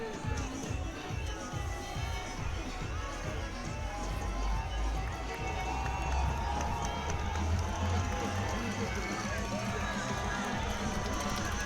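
Spectators at a football game between Hazlitt and the Vikings send up a sustained crowd roar, a steady wash of cheering that swells slightly midway and persists under the rumble of the stadium.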